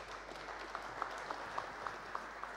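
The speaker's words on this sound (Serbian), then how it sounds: "pozdravite ga aplauzom" An audience applauds to welcome a speaker at a conference on problems in domestic internet networks, a steady moderate clapping with a few sharper individual claps standing out.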